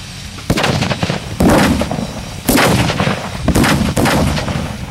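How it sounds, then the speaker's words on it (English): Four or five loud, close booming blasts from fuse-lit explosives go off one after another, each a sharp crack with a rumbling tail, and no one speaks. "And that's how we record explosions at the Chop Shop."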